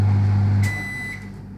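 A microwave oven cooking pasta in water gives a loud steady hum that stops after about half a second, followed by a faint high tone and quiet room noise.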